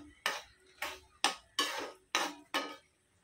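Green chilies dropped into a pan of fried onions, giving six short clattering hits of metal and frying at a steady rhythm, each burst fading quickly, close and clear with no talk.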